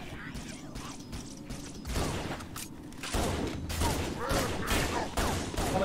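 Turret fire in Halo: Combat Evolved on Legendary difficulty: heavy bursts of rapid shots come in waves, loud and close, with clanking mechanical noise in between while someone talks briefly.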